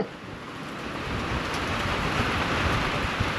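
Steady rain pours outdoors at a log-milling site, a dense broadband hiss that holds loud and constant throughout with no voices.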